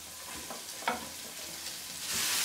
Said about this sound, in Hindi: इसमें डालेंगे थोड़ा सा ऑयल, और ये सारी सब्जियां इसमें थोड़ी थोड़ी फ्राई करेंगे